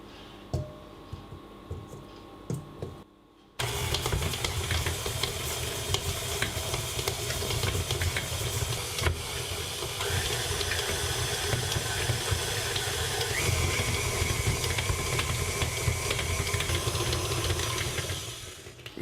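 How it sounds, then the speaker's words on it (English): Butter and sugar being creamed together in a mixing bowl for a simnel cake: a few quiet knocks at first, then a loud, steady whirring drone runs without a break until it fades at the end. "The first thing you need to do is cream the butter and the sugar together."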